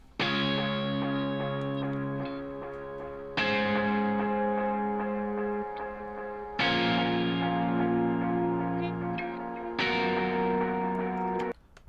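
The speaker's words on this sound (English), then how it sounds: "The next thing is a chord delay." Distorted electric guitar chords ring out four times, each sustained with a repeating delay echo trailing behind, spreading wide across the stereo field.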